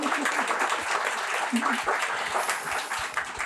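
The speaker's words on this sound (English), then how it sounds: "So let's give them a round of applause." A small audience at an author reading claps for the author and her daughter, who reads her work. The clapping is moderately loud and continuous, with a voice briefly audible partway through.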